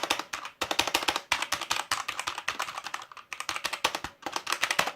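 Fast, steady typing on a Marvo KG922 mechanical keyboard, close-up and loud, with bursts of rapid clacky keystrokes separated by short pauses and no talking.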